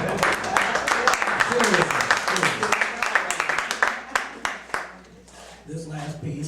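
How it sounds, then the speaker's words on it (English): An audience at a cabaret show claps through a mix of voices. The applause thins to scattered claps, then gives way to quiet talk and tones at the end. "So give yourself a round of applause."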